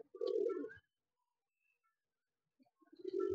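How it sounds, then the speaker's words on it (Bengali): A male pigeon, a short-bodied Kotashi Kalduma, gives two deep throaty coos, close and clear, separated by a quiet pause. "এটা হচ্ছে মেল পায়রাটা"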